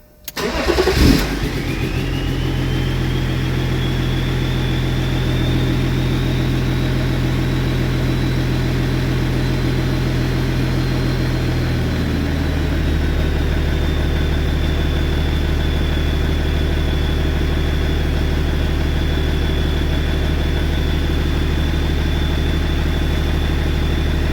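A BMW M57 diesel swapped into an E36 cranks and fires up sharply, then holds a loud, steady idle for over twenty seconds with a faint whine running over it, and no talking.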